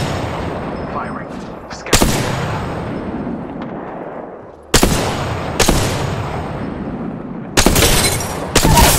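Gunfire in Apex Legends, several loud, sharp bursts of shots spread over the stretch with fading tails between them, close and dominant.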